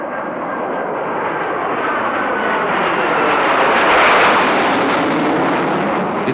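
A Tornado swing-wing jet roars past at an air show, its engine noise loud and sustained, swelling to a peak as it passes close and then easing slightly.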